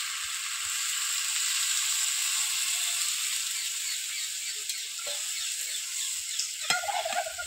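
Steady loud sizzle from a pan of kochur loti (taro stolons) cooking with prawns as water goes in, a hissing, crackling wash with a few small clinks and splutters near the end, and no talking.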